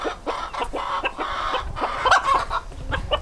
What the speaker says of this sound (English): the chickens were pecking at it